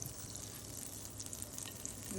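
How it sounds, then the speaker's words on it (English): A soft, steady sizzle of butter frying in a pan, faint and crackly with no voices. "So I put some butter on the pan"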